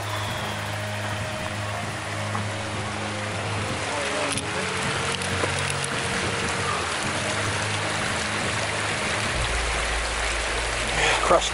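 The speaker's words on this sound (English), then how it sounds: "Crossing the Colorado River," Colorado River flowing at a hiking trail crossing below the Bowen Gulch Trail in Rocky Mountain National Park, a steady broadband rush of water throughout, with faint wind and low rumble underneath.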